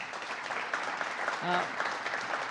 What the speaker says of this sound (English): Let's give them a round of applause and welcome them.